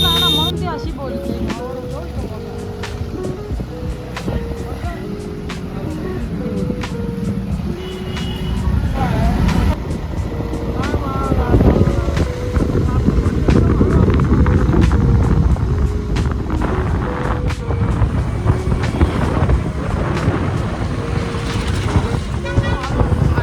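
A car is driven fast along a road, its engine and tyre roar mixed with heavy wind buffeting. The noise swells midway under steady voices and tonal background sounds.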